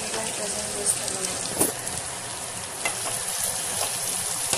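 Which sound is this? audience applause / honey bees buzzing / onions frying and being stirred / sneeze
onions frying and being stirred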